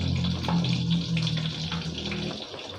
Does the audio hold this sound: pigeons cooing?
no